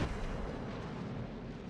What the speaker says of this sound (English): So that's a good first salvo.